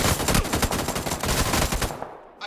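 Loud, dense automatic gunfire in a video game, a rapid continuous burst of shots that rattles on for about two seconds and then cuts off abruptly.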